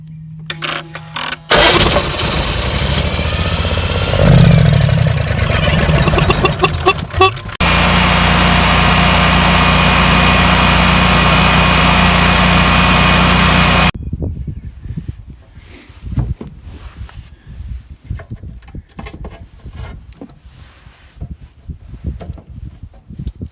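A Generac generator engine cranks, catches and runs loud and steady for several seconds, its rough low drone dominating before cutting off, leaving quieter scattered mechanical handling noises.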